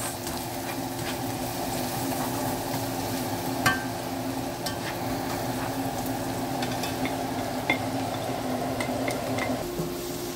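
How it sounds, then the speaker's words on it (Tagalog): Garlic and onion sauté in hot oil for a Filipino pancit dish, a steady close sizzle with occasional sharp clicks of stirring throughout and no talk. "Mainit na yung ating mantika. So, manggigisa na tayo. Bawang sibuyas."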